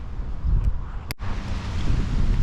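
Strong wind at Cardiff Bay buffets the microphone with heavy low rumbling gusts, steady and loud, broken by a brief click.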